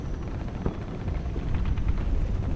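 A helicopter in a video game, a steady low rotor drone that holds throughout and grows slightly louder toward the end, heard on its own without speech.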